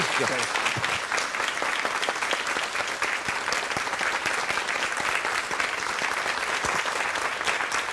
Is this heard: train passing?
no